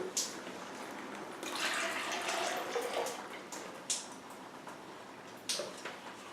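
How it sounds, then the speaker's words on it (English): Water infused with potting soil is stirred, giving soft, faint sloshing and swirling with a few small clinks and drips in a quiet room. "you then stir carefully so that the water becomes infused with the essence of the potting soil"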